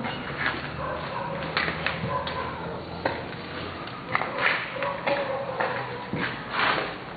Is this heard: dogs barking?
yes